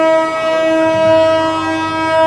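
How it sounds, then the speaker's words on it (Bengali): A train horn at New Jalpaiguri station holds one loud, sustained, steady tone close by, rich in stacked harmonics, with a low rumble of the stationary train underneath and no talking. "হর্ন দিয়ে দিয়েছে, বন্ধ।"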